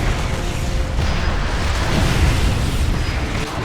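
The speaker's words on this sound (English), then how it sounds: "The first of these are his free rocket launchers that form out of his back." Devastator's rocket launchers fire in the Transformers: Revenge of the Fallen game, making a dense, steady roar of launches and booming explosions with no pauses, loud and close.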